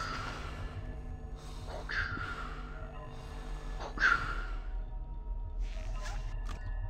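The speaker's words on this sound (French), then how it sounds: "La respiration de Dark Vador altéré" Altered, Darth Vader-like mechanical breathing in Five Nights at Freddy's, a few slow hissing breaths and gasps at moderate level over a constant low drone.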